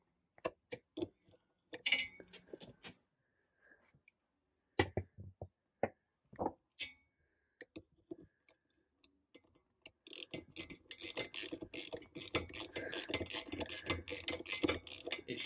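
Ratchet and tools working on short shifter bolts inside a 6th-gen Honda Civic, heard as sparse close metallic clicks and clinks, then a denser run of quick ratcheting ticks toward the end, fairly quiet.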